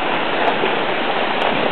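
A waterfall roars in steady, broadband rushing water close by, loud and continuous with no voices over it.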